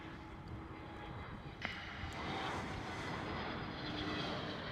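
Transavia Airbus A321neo airliner at Schiphol, a moderate engine roar with a sharp click partway through, then a swelling broadband rumble that grows slightly louder toward the end.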